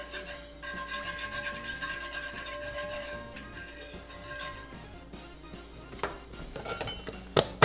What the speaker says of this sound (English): I might give that a whisk.